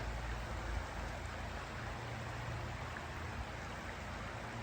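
Conneaut Creek flowing through Ohio woods, a steady broadband rush of moving water that holds even and continuous throughout, fairly quiet and heard alone with no voices.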